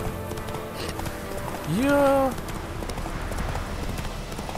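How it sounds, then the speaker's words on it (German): A horse in the video game The Witcher 3 gallops with steady clip-clopping hooves, and a loud whinny rises in the middle, while someone speaks over the game sound. "Also der Typ mit seinem blöden Pferd."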